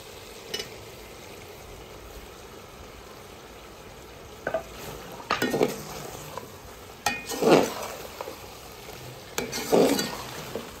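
Onions and green chilies fry in a pan with a low steady sizzle, broken by several louder bursts of stirring and scraping near the end, close by and with no talk.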